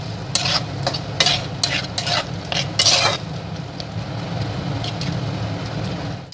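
Chicken with ground nut paste being stirred in a pan for Bengali chicken bharta: a spatula scrapes and clacks against metal in irregular strokes over a low, steady frying sizzle, close up with no talk.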